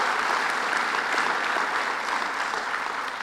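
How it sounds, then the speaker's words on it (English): Steady, dense applause from a crowd gathered for a public announcement, sustained and fairly loud throughout with no pauses, honoring a transportation commissioner. "Let's give him a round of applause, Commissioner Driscoll."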